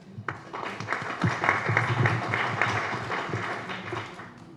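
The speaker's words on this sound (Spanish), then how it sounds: "Un fuerte aplauso." Audience applause at a panel session of a convention on the civil aspects of international child abduction, a dense, moderately loud spread of claps that swells and then tapers off.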